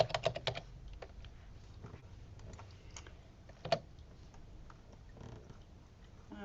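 Fingers type on a computer keyboard, quiet irregular key clicks coming in short bursts with a few louder taps.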